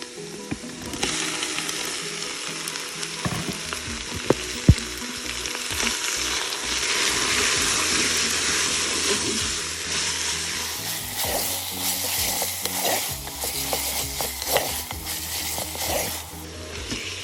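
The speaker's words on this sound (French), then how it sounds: "On laisse rissoler quelques minutes jusqu'à cuisson du poulet" Chicken sizzles and fries in a pot, a steady crackling hiss with occasional clinks and stirring noises, close up with no talking.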